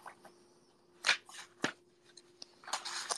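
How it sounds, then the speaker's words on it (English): Papers being shuffled and handled on a desk, with crisp rustles, flicks and slaps coming in uneven bursts, close and fairly quiet, with a faint steady hum underneath. "I'm shuffling through my papers because, of course, they're all over the place"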